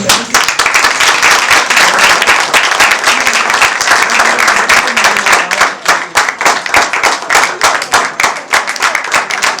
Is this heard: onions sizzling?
no